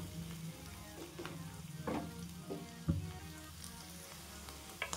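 Curry leaves hit hot oil for Maharashtrian dahi pitla, giving a close, steady frying sizzle broken by sharp crackling pops, with no voices.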